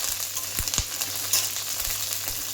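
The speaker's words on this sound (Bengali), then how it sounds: "একটু কাঁচা লঙ্কাও ভেজে নিচ্ছি" Split green chilies frying in hot oil in a home kitchen, a steady close-up sizzle with a few sharp pops and spits crackling out over the continuous hiss.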